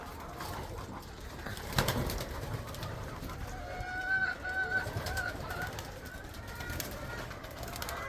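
Homing racing pigeons coo softly at a loft, with low murmuring calls and a few brief rustles, steady background coos throughout, fairly quiet and nearby.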